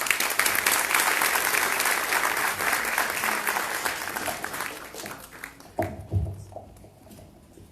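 An audience applauds loudly for several seconds, then the clapping thins and fades, leaving a few scattered claps and faint murmurs.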